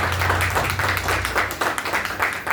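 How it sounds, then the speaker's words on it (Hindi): An audience claps at a literary society's annual celebration, the applause steady and moderately loud with a faint hum beneath and individual claps standing out toward the end. "एक बार अच्छे से तालियां"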